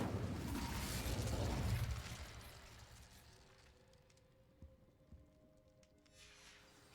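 A fire spell bursts in Hogwarts Legacy, a loud whooshing roar of flame that swells for about two seconds and then fades into a low crackling hum with a few faint pops.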